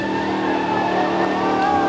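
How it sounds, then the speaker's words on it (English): A V8-powered Ford Cortina race car, converted by Bob Pennell, roars at a car show's racing event, its engine droning loud and steady and close throughout, with no voices over it. "Michael Moyt really doing quite well with the little Bob Pennell converted V8 Cortina."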